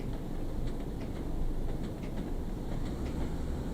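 A train runs along the Tees Valley Line near Tees Yard in Train Sim World 2, a loud steady rumble with faint rhythmic clicks of wheels over rail joints and no voices.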